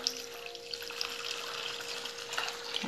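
Room-temperature water pours into a homemade soda-free cleaning base, making a close, continuous splashing trickle at moderate volume.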